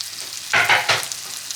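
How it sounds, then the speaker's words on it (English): Sliced onions hit hot butter in a frying pan over medium heat, giving a short burst of sizzling and crackling that swells for about half a second and then settles back into a low steady fizz. "I have heated up some butter in a frying pan and I'm going to add these sliced onions now."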